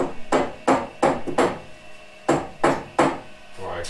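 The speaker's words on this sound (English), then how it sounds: "and then we need to hammer it in" A hammer drives a part into an angle grinder support in a series of sharp, close metallic strikes, about nine blows in uneven rhythm with short pauses between.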